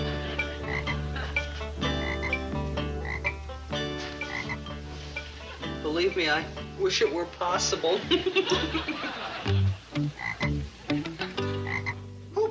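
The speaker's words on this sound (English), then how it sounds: "Who put this ugly frog on my desk?" Deep, repeated frog croaks in an indoor sitcom scene come in irregular bursts under and between talking, joined by chuckles and snickering.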